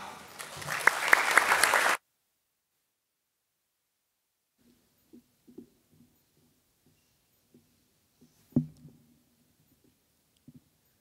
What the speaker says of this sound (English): Please give a round of applause for Laura